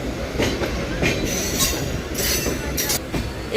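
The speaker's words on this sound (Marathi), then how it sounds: "मेमू लोकल ट्रेन, गर्दी खूप आहे." A crowded MEMU local train rolls past at Diva Junction, a dense close rumble of wheels on rails with repeated metallic squeals and clatter, no voices over it.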